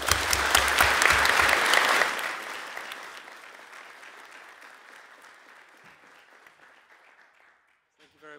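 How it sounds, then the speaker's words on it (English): Audience applause at a university event on the war in Ukraine, loud and dense for about two seconds, then tapering into thinning scattered claps that fade out before a brief sound at the very end. "You get a good round of applause here."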